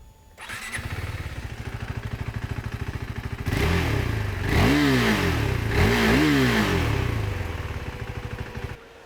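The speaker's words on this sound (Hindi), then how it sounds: "दोनों बाइक्स का एग्जॉस्ट सुनते हैं।" Single-cylinder motorcycle exhaust, from either a KTM Duke 390 or a BMW G310R, starts up into a fast, close idle thrum, then revs sharply twice in quick rising-and-falling bursts before the engine is cut.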